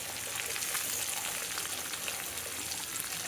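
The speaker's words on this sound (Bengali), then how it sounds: "পুঁই শাকটি রান্না করার জন্য এখন আমি প্রথম পেঁয়াজ কুচি দিয়ে দেবো।" Chopped onion fries in hot oil for a Malabar spinach curry, giving a steady, close, even sizzle with no pauses.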